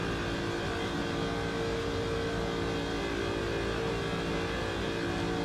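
A race car engine in a racing video game revs hard through the gears during an endurance practice session, a loud, continuous, buzzing drone that holds steady throughout with no talking.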